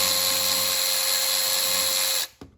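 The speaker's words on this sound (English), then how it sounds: "Now we get a T30 stubby to get these out. And this long neck ratchet does the wonders." A long neck ratchet spins out T30 screws from an intake camshaft adjuster bridge on a 2.0T engine, giving a loud steady high-pitched whir for about two seconds that stops abruptly and is followed by a brief clack.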